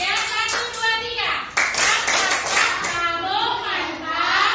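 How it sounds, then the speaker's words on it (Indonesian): Fourth-grade primary pupils in a Christian religion class clap for a classmate, bursts of brisk hand claps mixed with children's chanting voices, close and lively over a few seconds. "Oke, kita kasih dulu tepuk tangan kepada teman kita"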